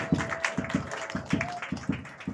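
A church congregation claps in a steady, even rhythm during a sermon on faith, the fairly quiet beats repeating about three times a second, with a faint sustained tone in the background.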